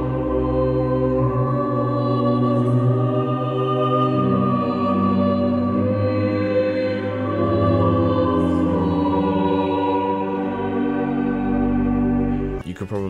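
A sustained orchestral choir sample for a UK grime instrumental plays as loud, layered chords held for long stretches, swelling and shifting without drums, steady from start to finish.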